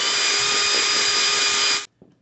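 A power drill bores out a screw hole on a homemade bionic prosthesis part, a loud steady high whine running close for nearly two seconds before it cuts off, followed by a brief faint knock.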